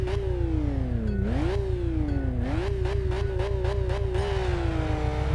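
Two boxer-engine cars launch in the Kaido Racer video game, engines revving steadily and climbing through quick gear shifts, loud and continuous with a constant low drone underneath.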